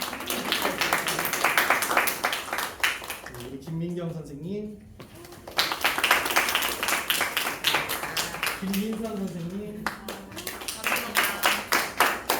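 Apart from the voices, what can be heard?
audience applause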